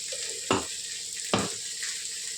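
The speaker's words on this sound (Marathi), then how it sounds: "त्याला छानसं भाजून घ्यायचं आहे आता तेल सुटपर्यंत" Onion, tomato and ginger-garlic paste roasting in oil, a continuous close sizzle with two distinct stirring scrapes, and no talking.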